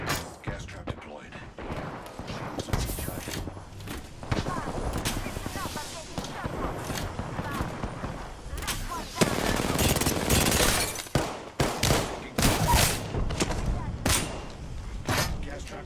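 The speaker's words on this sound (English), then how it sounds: "A second squad is firing at us." Heavy gunfire from an enemy squad in the Apex Legends battle royale, dense bursts of automatic fire and shots cracking repeatedly at close range, growing louder and more intense toward the end, with voices talking over the fighting.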